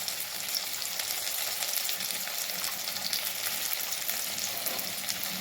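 Ground cumin sizzles in a hot pan with garlic and tomato, a steady bright crackle of frying throughout with no talking.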